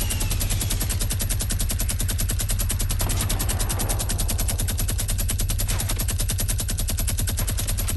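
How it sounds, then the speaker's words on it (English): A video-game minigun fires in one continuous, rapid, loud burst that holds steady from start to finish with no pauses. "Minigun him."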